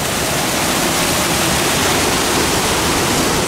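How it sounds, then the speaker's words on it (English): A waterfall produces a constant, loud broadband rush of roaring water, steady and unbroken throughout, heard close with no other sounds standing out. "So I thought we'd stop in this location because I suddenly heard water."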